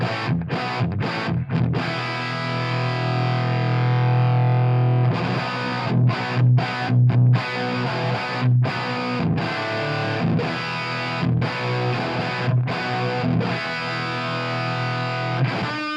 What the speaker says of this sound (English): I'm using a Marshall 1968 cabinet with G1265 speakers